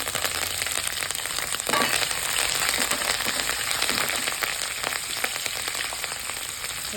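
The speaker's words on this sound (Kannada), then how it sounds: "ಈಗ ಮೆಂತ್ಯ ಪೌಡ್ರ್ ಹಾಕ್ಕೊತಾ ಇದ್ದೀನಿ, ಮತ್ತು ಕರಿಬೇವು, ಹಸಿಮೆಣಸಿನಕಾಯಿ ಹಾಕ್ಕೊಳ್ತೀನಿ." Fenugreek powder, curry leaves and green chillies sizzle steadily in hot oil while poha is cooked, giving a loud, continuous frying crackle that runs close and unbroken, with no talk over it.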